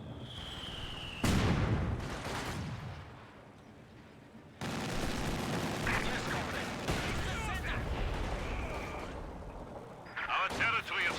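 Battle sounds from the strategy game Company of Heroes 2 during a competitive match: repeated explosions and bursts of gunfire, some sudden and loud, layered under ongoing commentary talk.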